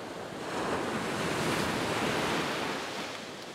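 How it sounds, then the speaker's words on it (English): Ocean waves break on a beach during a fishing trip, with the swell small at about half a metre. The surf is a broad, continuous wash that swells in the middle, mixed with wind noise and no voices. "I think that the waves are probably only about half a metre"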